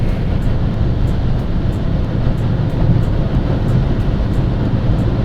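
Cabin roar of a Fiat Punto 1.3 turbodiesel cruising at about 150 km/h, a loud steady rumble of engine, tyre and wind noise with no break and no talking.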